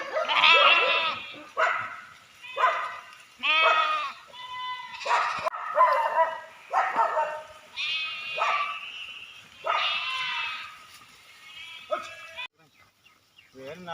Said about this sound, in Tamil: இவங்க ஆடு மேய்க்கிறத பார்த்துட்டு அந்த தோட்டத்தில் இருந்த நாய்க ஒரே ரவுஸுங்க